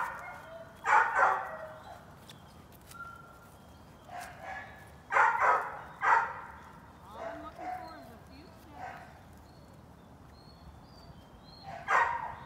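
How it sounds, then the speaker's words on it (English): A puppy barks in a few short bursts spread across the stretch, mid-distance, while a trainer talks during a leash and place training session. "Charming little puppy."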